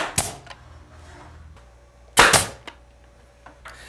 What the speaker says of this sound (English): we set the crown molding in place one section at a time, attaching it to the corner blocks and bottom edge of the ledger with a nail gun